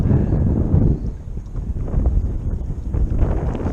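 Wind blowing across a marsh while fishing from a boat, a loud continuous rumbling buffet on the microphone that gusts unevenly for the whole stretch with no talk.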